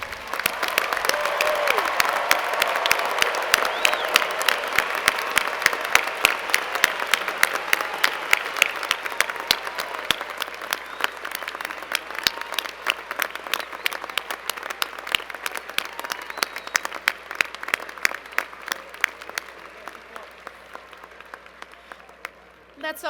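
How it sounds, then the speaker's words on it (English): A stadium crowd at the UNC-Chapel Hill 2014 spring commencement ceremony breaks into loud, sustained applause that holds steady for over twenty seconds, dense overlapping clapping filling the space before tapering slightly near the end. "It's our chance to fill the stadium with a roar of applause for you."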